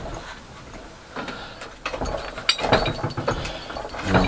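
A hand tap cutting a thread into a hole in a cyclekart chassis rail gives close clicking, grinding metal creaks that grow louder and denser as it grips.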